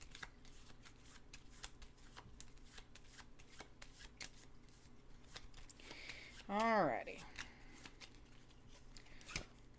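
Tarot cards shuffled by hand in a quiet room, a soft continuous riffle of paper cards with scattered taps. A brief voiced remark comes in the middle.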